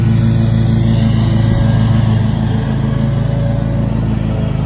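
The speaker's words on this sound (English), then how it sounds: "Mowing." A Ferris riding lawn mower cuts grass on a hill, its engine droning loud and steady at close range with a low harmonic hum and a slight dip in pitch partway through, with no voices.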